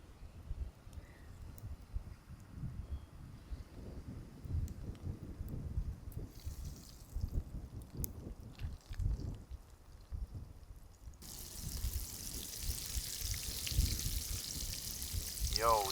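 Octopus frying in hot oil at an outdoor cookout on a Jamaican beach: faint rustling and handling at first, then a soft, continuous hiss of sizzling oil that sets in and holds for the last few seconds.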